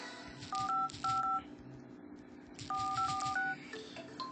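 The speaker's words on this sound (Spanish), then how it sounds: "ya vimos que funciona el marcador y que no tenemos defecto en el táctil" Keypad tones from a Sony smartphone dialer, two quick clusters of short dual-tone beeps, about four then five presses, close and distinct over a low background hum.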